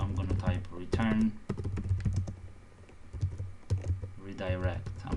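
Quick key clicks from typing on a computer keyboard, during a PHP and Laravel coding session, come in short bursts under a person's ongoing talk.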